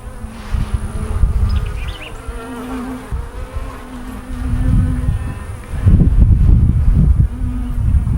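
Honeybees in an open hive drone and buzz steadily and close by, swelling louder toward the end, with no speech.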